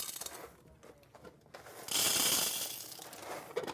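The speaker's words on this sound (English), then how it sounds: "let's get some beans in them so you can hear what they're like and see what the grind looks like when we're actually grinding" An electric coffee grinder crushes lighter-roast espresso beans up close, a rough mechanical crunch that swells into a louder, hissing grind midway before easing back.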